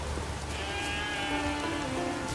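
Sheep bleating during a sheep-herding task in The Witcher 3, heard over a steady rain-like wash of game ambience; a couple of bleats stand out in the middle of the clip.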